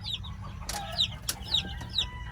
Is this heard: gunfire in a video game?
no